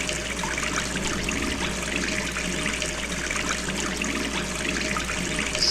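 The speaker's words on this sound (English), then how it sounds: "I'm gonna leave the water running" A tap left running in the video game Gone Home gives a steady, close trickle of water splashing into a sink, continuous and even throughout with no talking.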